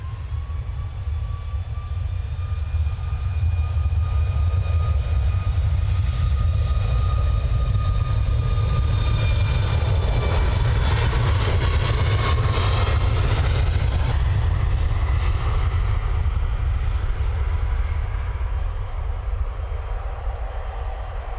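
Ryanair airliner departing Manchester Airport after a quick turnaround, a loud sustained jet roar with whining engine tones that rise and sweep through a peak midway, then settle into a continuous rumble.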